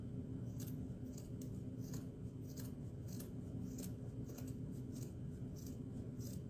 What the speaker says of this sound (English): now all we do is cut along the edge of the egg